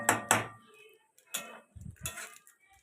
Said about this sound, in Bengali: এখন অন্য নাড়িয়ে নিচ্ছে